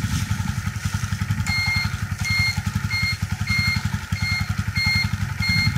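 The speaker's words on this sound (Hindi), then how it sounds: "अब मैं मोटरसाइकिल को स्टार्ट करता हूँ" A motorcycle running on a capacitor fitted in place of a dead battery idles with a steady, rapid, close engine chug. A regular electronic beep repeats alongside it.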